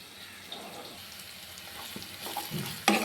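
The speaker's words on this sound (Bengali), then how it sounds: "পেঁয়াজটা আমার হালকা করে ভাজা হয়ে গিয়েছে।" Onions sizzle and crackle steadily in a pan while cooking for an egg fritter curry, with a few clinks and stirring scrapes and one sharp knock near the end.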